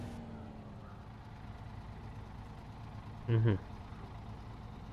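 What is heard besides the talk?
Kenworth truck engine in video game SnowRunner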